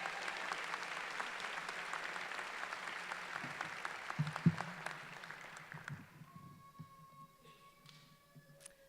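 Audience applauding a keynote speaker at a Berkeley City College commencement, a dense steady clapping from a sizable crowd that fades out after about six seconds, leaving faint tones and room noise.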